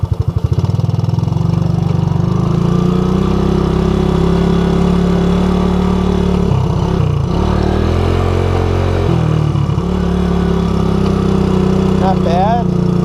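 A 1984 Honda ATC200S three-wheeler's single-cylinder engine runs loud and close, dropping through a downshift pattern with revs falling in steps and a couple of brief dips before it settles back into a steady drone.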